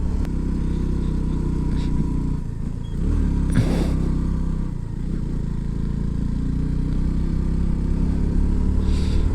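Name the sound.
motorcycle engine straining uphill in second gear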